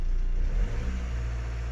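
A Volkswagen-group PD diesel engine revs under throttle with a steady low rumble, close and loud, rising slightly partway through.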